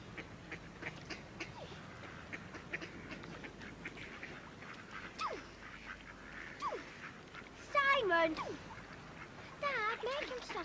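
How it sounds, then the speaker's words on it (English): Ducks quack at a pond amid a busy outdoor murmur of voices, with distinct quacking bursts standing out near the end, moderately close and partly under nearby talk. "make him stop and scare all the ducks."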